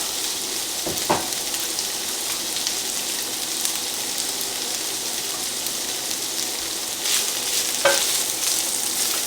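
Steady broadband sizzling and bubbling of pasta boiling and sausage cooking on a stovetop, with a couple of brief utensil clinks partway through.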